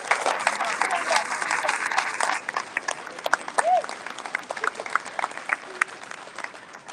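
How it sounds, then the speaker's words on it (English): An audience at a live show applauds, loud scattered clapping that thins into sparse individual claps, with a voice talking through it. "Please give her applause, everyone."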